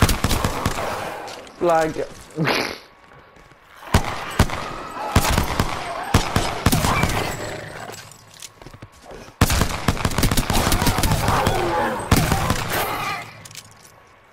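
Gunfire from the video game Apex Legends cracks out in several sharp bursts and rapid volleys, loud and close, with a player talking in between.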